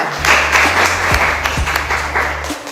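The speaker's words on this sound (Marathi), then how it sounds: "ह्यांच्यासाठी मी टाळ्या वाजवा" A classroom full of students claps together in a short burst of dense, steady applause close by, with a couple of low voices calling out underneath.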